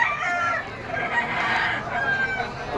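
A rooster crows loudly and close by at a busy pet and poultry market in Malabon, one long drawn-out call over a crowded, noisy background.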